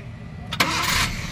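A Maruti Eeco van engine cranks briefly and catches, settling into a steady idle right after the start, fairly close and alone without talk.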